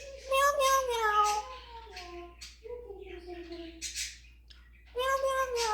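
An African grey parrot imitates a cat's meow in repeated drawn-out, wavering calls, close and fairly loud, with short pauses between phrases.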